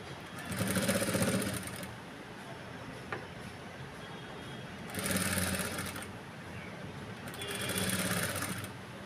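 Electric sewing machine stitching a boat neck blouse in a tailoring lesson, running in three separate bursts of rapid mechanical whirring, close and fairly loud, with quiet pauses between runs.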